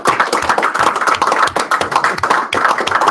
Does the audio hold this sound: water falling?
no